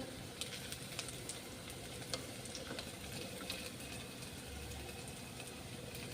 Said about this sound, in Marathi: इथं आपण हे सगळं साहित्य एक पाच मिनिट आणखी व्यवस्थित तांबूस रंगाचं होईपर्यंत भाजून घेणार आहोत